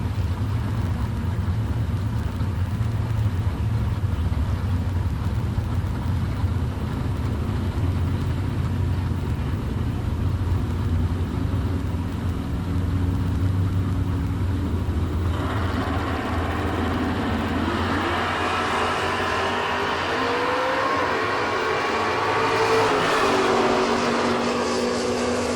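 Drag racing pickup truck and Mustang at a Sportsman Nationals drag strip, heavy engines droning steadily throughout, with a brighter rising rev and roar building in the last ten seconds.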